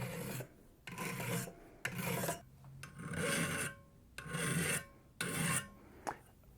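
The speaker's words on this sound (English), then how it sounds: "I've used the file to bring them back to a really straight surface" A metal file rasps along the edges of a hammered copper bracelet in repeated rhythmic strokes, each a close, gritty scrape separated by short pauses.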